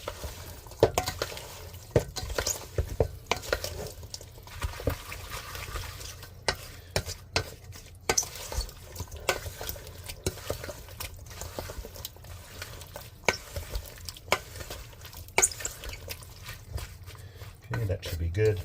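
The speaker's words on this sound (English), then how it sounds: "here I am mixing it up, getting the" Marinated tomato salad ingredients being stirred together with a utensil in a bowl, giving soft, irregular wet scraping and squelching sounds that run steadily under the background.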